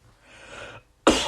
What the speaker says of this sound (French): excusez-moi, je me suis étouffé